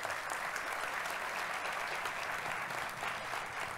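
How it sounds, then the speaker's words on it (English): A memorial audience fills a hall with steady, dense applause that holds at an even level throughout, no voices rising above it. "Let's give them a round of applause."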